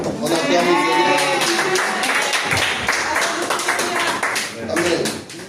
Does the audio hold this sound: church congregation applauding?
yes